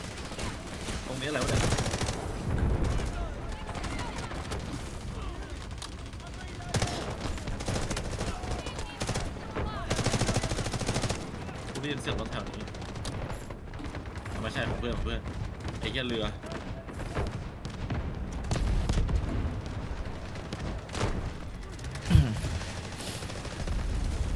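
Dense bursts of rapid automatic gunfire and scattered single shots from the Delta Force video game fill the whole stretch, loud and near, with voices talking over the shooting.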